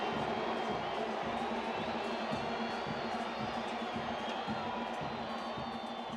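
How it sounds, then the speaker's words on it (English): A stadium crowd at an El Salvador versus Trinidad and Tobago Concacaf Nations League match cheers after El Salvador's goal, a steady distant roar with a commentator talking over it throughout. "who gives the home fans something to cheer about"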